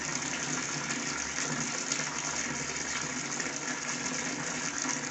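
Tap water runs in a steady, continuous gush, a broad even wash of sound lasting throughout, likely filling a container for homemade detergent mixing, with no talking.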